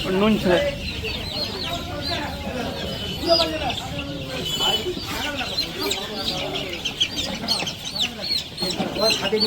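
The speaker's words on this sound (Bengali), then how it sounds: "দেখি কটা মুরগি ছানা" Chicks peeping and clucking nearby at a village chick distribution program while several people talk over them throughout.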